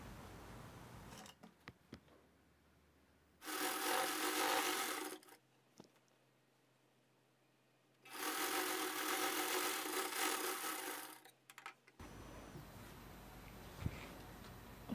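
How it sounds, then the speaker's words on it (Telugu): A sewing machine stitching a 36-size boat neck lined blouse runs in two steady bursts of several seconds each, with quiet handling and cloth movement between them. "ఇప్పుడు స్టిచ్చింగ్ చేసేయాలి."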